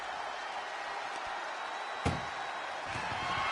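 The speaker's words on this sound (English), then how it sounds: "Doing their best just to shut that first door." Ambulance back door being slammed shut in the WWE 2K24 video game, one sharp loud thud midway over a steady hiss of game ambience.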